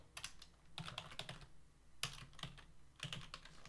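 Keys clatter on a computer keyboard in quick bursts of typing separated by short pauses, close and fairly quiet.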